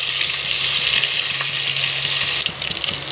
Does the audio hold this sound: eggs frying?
yes